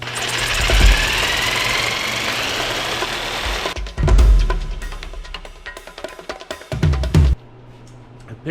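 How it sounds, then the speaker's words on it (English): A small Bosch hand router cuts wood in a home workshop, a loud steady high-pitched whine for several seconds, then broken into short bursts of motor roar with thumps and pauses as the bit bites and lifts. "Picked up this little Bosch hand router, and I like it."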